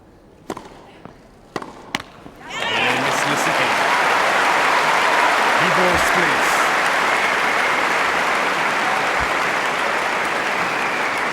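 Spectators at a Wimbledon fourth-round women's tennis match burst into loud, sustained applause after a few isolated claps, the broad clapping filling the stands and holding steady to the end.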